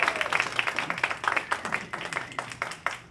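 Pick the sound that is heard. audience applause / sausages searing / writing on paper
audience applause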